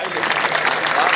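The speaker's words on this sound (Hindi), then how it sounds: "आप एक बार जोरदार तालियां बजा दो सबिहा सर के लिए" An audience at a poetry recital claps loudly and steadily for a poet, a dense continuous wash of applause filling the short stretch.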